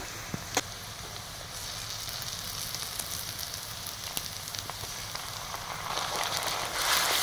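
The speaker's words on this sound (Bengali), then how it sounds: "আদা রসুন বাটাটা দিয়ে আদা রসুনের কাঁচা গন্ধটা যতক্ষণ না পর্যন্ত যাচ্ছে ততক্ষণ পর্যন্ত কষিয়ে নেব" Ginger garlic paste fries with browned onions in a pan, a constant sizzle with scattered pops and crackles that swells louder toward the end.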